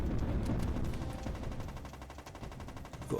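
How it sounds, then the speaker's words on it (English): A gun emplacement in the PS2 game Borderline fires a dense bullet-hell pattern, a continuous loud barrage of rapid overlapping gunfire pops with a rumbling low end, steady throughout. "you've got this pretty cool gun emplacement here which fires like a kind of bullet hell bullet pattern until you've killed him"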